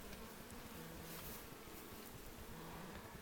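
Honey bees buzz in a dense, steady drone during a beehive inspection, the hum close and continuous with no talk over it.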